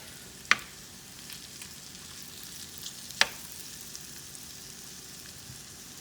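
Shrimp frying in butter and olive oil give a faint, steady sizzle that runs throughout, broken by two sharp pops or clicks.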